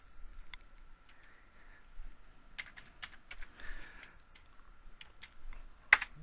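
Typing on a computer keyboard, quiet close clicks of keys pressed in short irregular bursts with a faint steady hum underneath.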